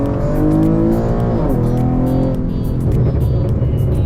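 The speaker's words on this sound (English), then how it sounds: "You guys want a second gear pull?" An Infiniti G37 with full bolt-ons pulls hard in second gear, its engine rising loud and close, easing briefly, then climbing again into a raspy exhaust roar.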